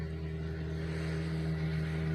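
A small ski boat's motor drones steadily and low throughout, with a constant pitch and no obvious rise or fall, fairly distant, near Luperón, Dominican Republic.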